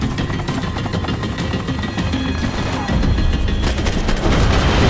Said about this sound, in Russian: Макс еще держится за вертолет, и он еще также может целиться с вертолета, чтобы всех расстрелять.